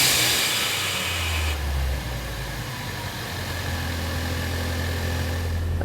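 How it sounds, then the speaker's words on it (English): A 2016–2018 Ford Focus RS with a Turbosmart Kompact Shortie dual-port blow-off valve, heard as a steady engine hum that settles from a slightly higher rev into idle, fairly close with no talking. "rev it a couple times, lower RPMs, make sure it works"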